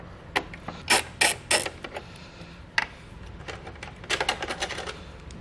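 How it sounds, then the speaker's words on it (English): A T30 Torx bit works out two screws from a tail light on a 2021 BMW X5, giving clusters of close, sharp ratcheting clicks separated by brief pauses. "So now we'll take a T30 torque spit and we'll remove those 2 screws now."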